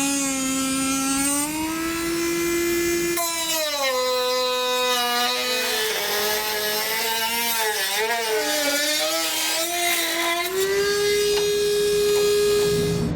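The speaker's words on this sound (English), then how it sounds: "I'm going to use a Dremel tool to cut this out." Dremel rotary tool cutting thin plastic on a 2011 Ford Fusion front end, a loud continuous high whine whose pitch sags and rises as the bit bites into the material.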